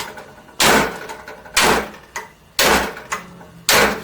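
A socket is tapped against the valve spring retainers on a 350 Chevy small-block cylinder head during teardown, giving four or five sharp metallic knocks at uneven intervals, close and loud with a short ring after each.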